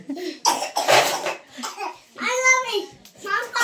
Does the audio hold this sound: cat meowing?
no